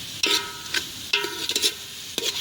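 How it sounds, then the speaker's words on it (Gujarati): Vaseti greens sizzling steadily in a pan with a few distinct scrapes of stirring, close and fairly loud, no voices. "થોડુંક હલાવવાનું ઘડી બે ઘડી શરૂ રાખવાનું એટલે મસ્ત રીતે શેકાઈ જાય ભાજી"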